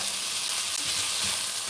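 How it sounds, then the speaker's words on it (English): Reheated Christmas dinner leftovers, salted, get stirred around in a frying pan, producing a continuous close hiss of frying with a couple of soft scrapes and no talking. "Stir that bastard around."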